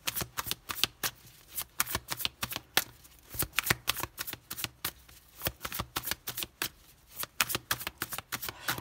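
Tarot cards are shuffled in a rapid, steady riffle of crisp slaps and flicks, close and continuous, with no talking.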